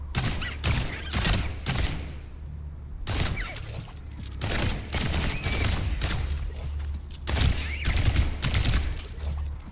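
Rapid bursts of gunfire and body-shot hit impacts from Overwatch, dense, loud and near, with repeated volleys and short gaps.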